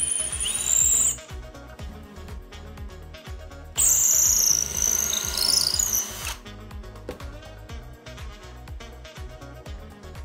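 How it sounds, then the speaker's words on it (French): A power drill fitted with a small wood bit pre-drills a guide hole in wood for a balancing wine-bottle holder, its whirring bursts loud and close over a steady rhythmic backdrop. "nous allons pré-percer avec une forêt à bois plus petit pour guider notre grosse mèche"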